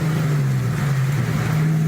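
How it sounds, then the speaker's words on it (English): A car engine with exhaust pods or headers holding a steady, loud, droning rumble from up close, the pitch wavering slightly without a clear rev climb, no voices over it. "It sounds like it's got exhaust pods. It might have headers."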